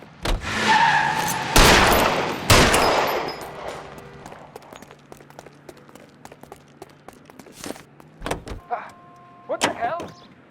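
Shootout gunfire in the L.A. Noire crime game: a few loud, sharp shots near the start, then quieter scattered cracks and clatter, with voices speaking in between.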